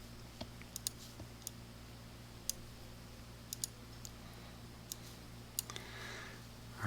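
Faint, sparse computer mouse clicks come one at a time at irregular intervals over a low steady electrical hum.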